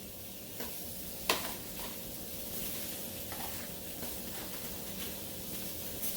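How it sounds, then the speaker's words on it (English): Lemon and onion garnishes sear in a pan, a faint, steady sizzle with a sharp click or two, heard close and alone. "We're going to sear off our garnishes."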